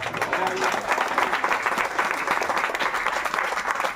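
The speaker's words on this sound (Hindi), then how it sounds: "वो देखो ना, 2 बच्चियां तालियां बजा रही है" Applause in an outdoor garden gathering for a local MLA, steady dense clapping filling the whole stretch at moderate loudness, with a murmur of voices underneath.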